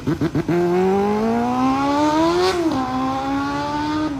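A modified Honda Hornet 250 with an aftermarket Yamamoto Spec A titanium dual exhaust blips a few quick revs, then holds a loud rising rev that briefly peaks and drops back to a steady, close, raspy idle-high drone.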